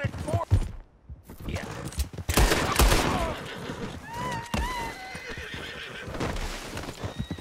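Horse neighing and clopping hooves in the Red Dead Redemption 2 video game, with a loud whinny over busy hoofbeats, gunfire-like bangs and a dense game soundscape, all close and continuous.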